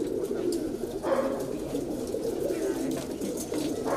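Kaldumma Galpara high-flyer pigeons with clipped wings coo softly in a loft, low repeated murmuring calls close by, with no speech.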